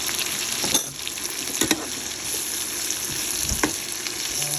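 Spicy dried dulong fish frying and being stirred in a pan: a steady close sizzle of hot oil with intermittent scraping knocks of the utensil against the pan, no talking.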